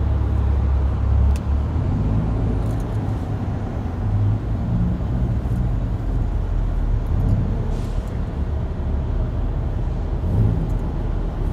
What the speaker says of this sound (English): I'm in back-to-back traffic, literally